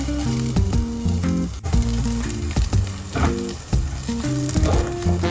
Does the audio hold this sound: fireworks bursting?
no